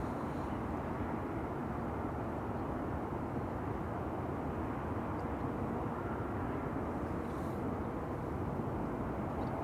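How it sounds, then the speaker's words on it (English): An Aegean Airbus A321neo arriving at Schiphol from Athens gives a faint, distant, steady jet rumble that holds evenly with no voices. "Aegean is next, an A321neo, arrival from Athens."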